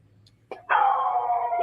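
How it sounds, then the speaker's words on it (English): A dog on security camera footage gives a short yip, then one drawn-out howling bark, close and loud over a low background hum. "his dog suddenly went wild, barking furiously at something unseen"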